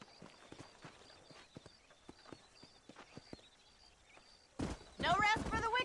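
Horse hooves clip-clop in the Red Dead Redemption 2 video game, a run of light, evenly spaced hoof strikes at moderate distance, then a louder burst of activity near the end, with voices talking over it.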